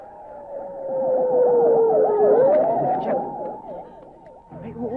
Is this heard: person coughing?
no